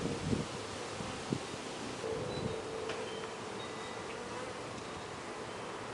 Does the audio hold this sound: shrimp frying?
no